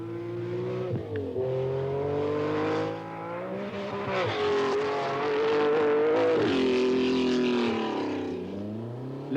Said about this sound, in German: In der Spitzengruppe nur noch internationale Rallye-Profis, wie hier Rauno Altonen auf Datsun.